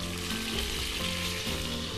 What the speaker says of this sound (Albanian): Pasi të kalojmë pjesë të pulës në tigan.